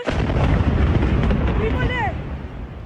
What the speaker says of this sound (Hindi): इस अस्पताल पर जोरदार धमाका होता है और धुएं का गुबार नजर आता है